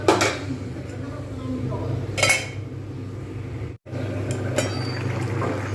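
Metal lid set onto a pot of beans and potatoes cooking on medium heat, giving a couple of brief clinks and clatters over a steady low simmering hum, with a voice speaking.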